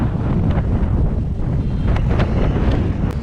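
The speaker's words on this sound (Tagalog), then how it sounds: "sobrang lakas ng hangin." Strong wind by the Marikina River roars and buffets the microphone nonstop, a loud, rumbling gusting noise with nothing else clearly audible.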